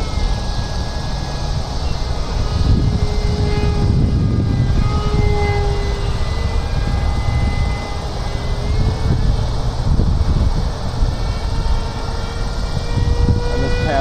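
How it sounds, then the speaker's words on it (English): Ducted-fan whine from a HobbyKing F5E 70mm 4S EDF RC jet making a close pass, a steady loud rushing roar with shifting tonal whistles as the model sweeps by outdoors, with no talk. "Comes with kind of a close pass."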